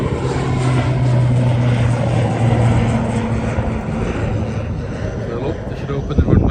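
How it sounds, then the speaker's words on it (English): Propeller airplane taking off from a runway, a steady broad engine roar with low droning tones that holds fairly loud and then slowly fades, with voices talking over it. "there it goes, look there the plane goes"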